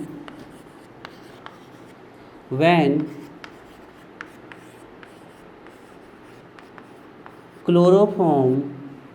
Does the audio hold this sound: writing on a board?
yes